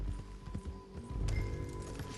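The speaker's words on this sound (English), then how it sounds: "Hope that horse ain't lame." Horse hooves clopping at a walk in the Red Dead Redemption 2 video game, irregular nearby thuds over soft ambient game background, moderately loud, no talk.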